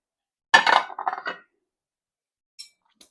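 A spoon clinks against a dish while sauce is spooned onto chicken: a quick cluster of bright close clinks, then two faint isolated taps after a pause.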